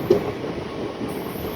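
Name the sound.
Shatabdi Express train passing at high speed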